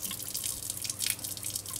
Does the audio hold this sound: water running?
yes